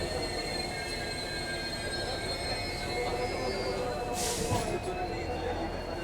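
An EMD diesel locomotive hauls the Rajasthan Sampark Kranti Express, with a continuous rumbling train roar, steady wheel noise and sustained high squealing tones close by, and a brief hiss toward the end.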